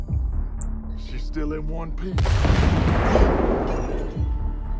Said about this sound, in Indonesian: Namun akhirnya mobilnya harus meledak.